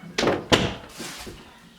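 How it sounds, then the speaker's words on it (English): A bedroom door pushed shut indoors, two close thumps in quick succession followed by a softer settling knock, with faint music in the background. "Close my door."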